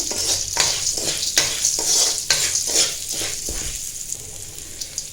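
Toor dal fries in oil in a pan, stirred with a spoon. It gives a steady sizzle with rhythmic scraping strokes that repeat roughly every half second, then settles into quieter frying.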